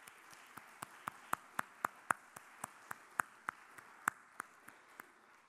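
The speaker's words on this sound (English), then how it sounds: "Please join me in a round of applause for these sponsors that make this forum series possible." Sparse, steady claps ring out one at a time at a forum lecture, a thin, quiet patter of a few hands rather than a full ovation, with no talking over it.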